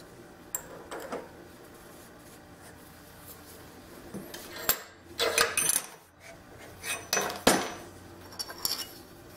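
A hand file rasps jimping notches into the spine of a damascus steel knife in a few short, separated scraping strokes, close by and moderately loud over faint background hiss.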